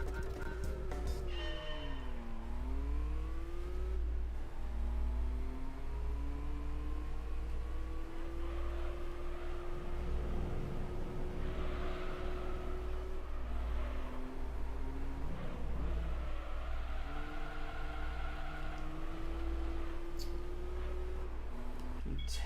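A car engine in the video game Gran Turismo 3 revs repeatedly, its pitch sweeping up and down over a steady low drone through gear changes, with no voices.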